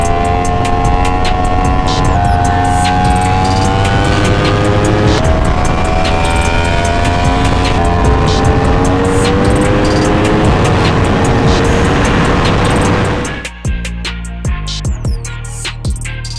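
A 2023 Yamaha R1 sport bike roars continuously at high revs on a highway, its engine note climbing through the gears with wind rush, then dropping sharply near the end into lower, choppier engine sound.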